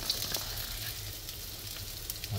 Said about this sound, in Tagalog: So, pag mainit na ang kawali at ang mantika, ilagay na natin ang ating bawang.